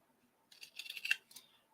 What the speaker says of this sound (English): I'm just going to use my pinking shears.